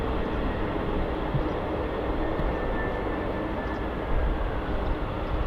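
An easyJet airliner comes in to land at Manchester Airport, a steady broad jet roar that stays loud and even throughout, with no voices.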